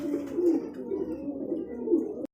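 A pair of Lakkha fantail pigeons coo in a low, repeated rolling rhythm, close and steady for a couple of seconds with no talking.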